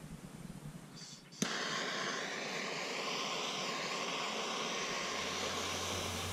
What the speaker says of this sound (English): I'm using a propane torch just to heat up the little piece that's left inside the coupling